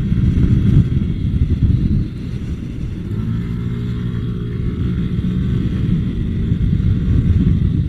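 Yamaha Cygnus Gryphus scooter accelerating out of a corner on a race track, a loud close engine drone with rising pitch against rumbling wind and road noise.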